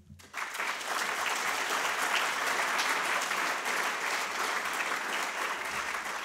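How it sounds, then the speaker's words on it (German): Applause erupts abruptly from a crowd at a symposium on interreligious dialogue, jumping from near quiet into a loud, dense, steady clapping that holds for several seconds without voices. "Applaus"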